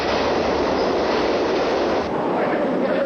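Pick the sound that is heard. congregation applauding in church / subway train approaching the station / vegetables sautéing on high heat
subway train approaching the station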